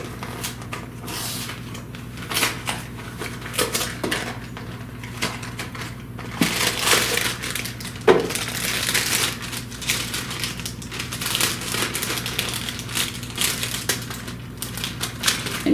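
A box of Pillsbury yellow cake mix being torn open, with a long stretch of crinkling, tearing cardboard and rustling paper and several sharper rips, close and fairly loud with no talk.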